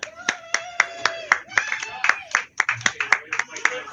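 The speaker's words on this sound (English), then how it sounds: "There are lots of cheering there." Small audience at a darts-style league match clapping in a loose, uneven rhythm of distinct claps, close by, with voices talking and calling out over them.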